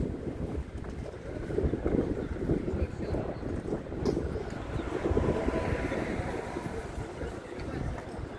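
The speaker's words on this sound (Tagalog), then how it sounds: "Itong ba nasa lakas ng hangin?" Wind buffets the microphone outdoors on a walk, a continuous rough gusty rumble that rises and falls throughout, with no clear speech over it.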